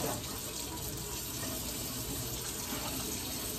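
A kitchen sink tap runs in a steady, unbroken stream that stays even and close throughout, with no talking.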